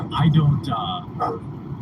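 A dog barking indoors at home with a short burst of sharp yips and woofs near the microphone, mixed with people talking over it.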